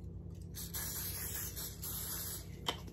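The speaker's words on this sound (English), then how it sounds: "lightly coat the cooking surface with cooking spray" Cooking spray hisses steadily from a can onto a Dash mini dog treat maker, one continuous close spray lasting a few seconds with a faint click near the end.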